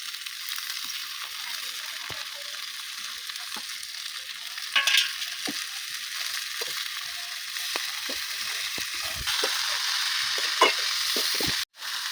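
Chopped sheti greens fry in a pan with green chillies, a steady hiss of sizzling punctuated by the clicks and scrapes of a stirring utensil, close and fairly loud, with no talking.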